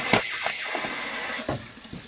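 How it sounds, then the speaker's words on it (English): Kitchen tap running into a sink while cooking, a steady close rush of water with small splashes and shifts in flow, no talking. "Whack the tap on."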